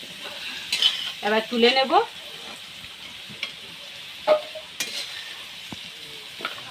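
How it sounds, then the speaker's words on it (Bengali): Potatoes tossed with turmeric and salt frying in oil in a pan, a soft continuous sizzle with a few scattered utensil clicks and a short spoken phrase near the start. "আলুগুলো আমি লাল লাল করে ভেজে নিয়েছি"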